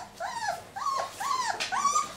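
Puppies under four weeks old play fighting, giving a run of small high-pitched growls and whimpering yips in quick bursts, close and fairly loud with no talk.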